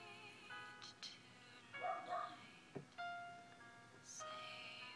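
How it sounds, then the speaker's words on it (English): A house dog barks and yips a few times indoors, fairly close and moderately loud, over soft background music, with a whimpering note between the barks. "My dog is barking again"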